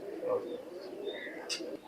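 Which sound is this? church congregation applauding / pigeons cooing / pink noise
pigeons cooing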